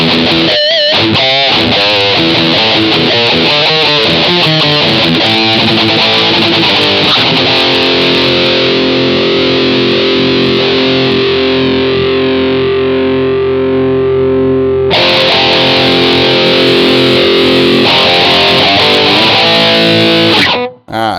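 A loud, heavily overdriven electric guitar through an overdrive effect pedal, riffing, then ringing out on a sustained distorted chord that cuts off abruptly.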